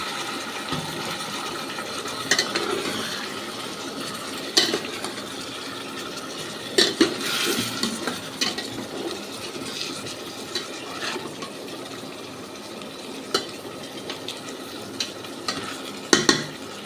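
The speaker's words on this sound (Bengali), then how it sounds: "ভালো করে নেড়ে চেড়ে নেব" A spoon stirs chicken curry in a hot pan, giving a soft steady sizzle broken by scattered scrapes and clinks of utensil against metal. No voices.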